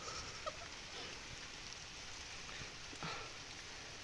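A faint, steady hiss of light rain falling outdoors, with a few soft scattered drops and taps, no voices.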